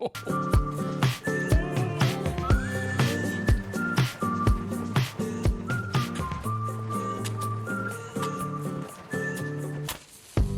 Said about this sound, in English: I was not expecting like whistles after that intro